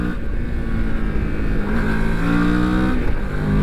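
A Moto Morini X-Cape 649 motorcycle is ridden at close range, its engine note a steady buzz that dips and rises again as the rider shifts gears.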